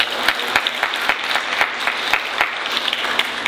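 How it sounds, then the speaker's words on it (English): A motivational talk's audience applauds in a steady, dense roar of many hands that holds evenly at a fairly loud level without pause. "So give yourselves a round of applause."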